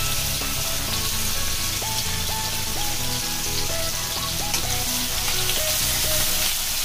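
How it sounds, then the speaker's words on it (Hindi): Chopped onions fry in hot oil over a high gas flame, giving a steady, dense sizzle that crackles evenly and close by for the whole stretch, with no talking. "गैस हाई फ्लेम में रखा हुआ है, गरम हो गया तेल। प्याज डाल रही हूँ"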